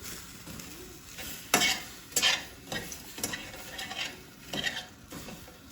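A spoon stirs sugar into a mixed berry pie filling in a pan, with soft scraping strokes and a few louder clinks against the metal over a low sizzle.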